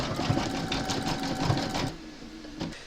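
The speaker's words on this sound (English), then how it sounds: "pop your hoop back into your machine and stitch round number 10, and that's going to zigzag, then satin stitch the join" An embroidery machine stitches a zigzag and then a satin stitch on hooped fabric, running as a fast, steady mechanical hum with needle chatter for about two seconds before it stops and a faint click follows.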